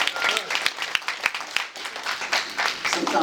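A banquet audience applauds in a room, with dense clapping from many hands. It swells and dips unevenly, with a few sharp nearby claps standing out against the crowd.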